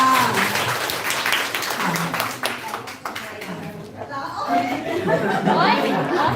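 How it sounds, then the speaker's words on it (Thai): A Thai direct-sales business gathering claps for a fellow member, a burst of scattered clapping mixed with chatter and chuckles from the crowd, with voices talking over it toward the end. "ปรบมือให้เพื่อนเลยค่ะ"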